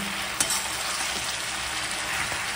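Leafy greens fry in a hot pan with a steady, dense sizzle and the occasional stir or clatter, close and continuous, with no voices.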